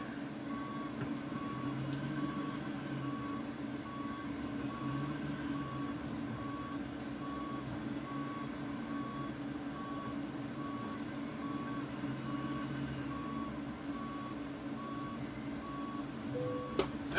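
A truck backs trailers into place, its reversing alarm beeping steadily and evenly over a constant low engine idle, fairly near, with no talk.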